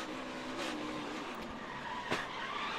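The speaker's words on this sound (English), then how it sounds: "Ryan Truex down on the bottom. Hemrick making it work up top, and there's contact" NASCAR race cars at Charlotte in 2018 grinding through a multi-car contact and crash: a continuous distant engine roar with skidding and a brief sharp impact burst near the end.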